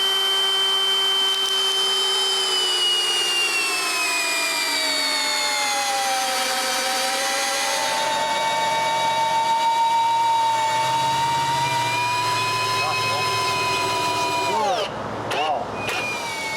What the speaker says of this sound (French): je les visse tous en place avec des vis de 38 cm